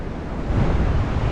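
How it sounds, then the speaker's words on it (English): Wind buffeting the microphone at a rocky seashore while waiting for the tide, a loud, low, continuous rumble that swells midway through the brief moment, with no speech. "I don't know if you can hear me because of the wind"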